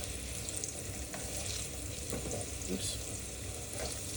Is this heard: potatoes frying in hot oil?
yes